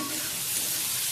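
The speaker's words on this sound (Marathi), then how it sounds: "आणि दोन्ही छान परतून घेऊया।" Tomatoes sautéing in a pan for a corn chivda, a close, steady hiss of sizzling with no pause across the short stretch.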